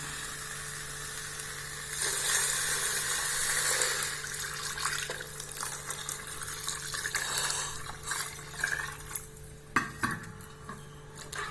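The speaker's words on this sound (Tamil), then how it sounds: "இப்போ நம்ம தண்ணி ஊற்றிடலாம்." Water gushes into a hot pot with a loud rushing pour, then the sizzle settles as a spoon stirs and taps against the metal.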